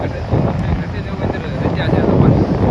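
Strong wind buffeting the microphone in low rumbling gusts, with a voice faintly mixed into the roar.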